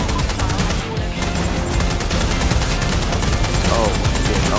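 Gunfire in Watch Dogs: Legion co-op play, dense rapid shots and bursts filling the whole stretch at close range, with chaotic game effects and voices mixed underneath.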